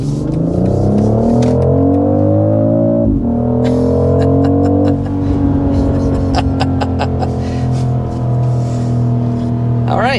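A BMW X3 M50 accelerates hard in sport mode, its engine loud and close with a rising, droning tone that drops briefly at a gear shift before climbing again, heard from inside the cabin.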